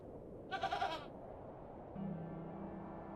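A single goat in The Excavation of Hob's Barrow lets out a short, wavering bleat, clear and moderately close against a quiet, hushed background.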